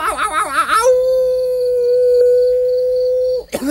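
A person imitates a dog howling: a wavering, yodeling start settles into one long, steady sustained howl that ends abruptly with a short breathy sound.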